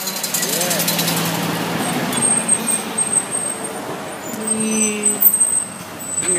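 A Kenworth truck rumbles steadily along a newly built road, a dense broadband engine and road roar with faint whining tones, while voices talk over it.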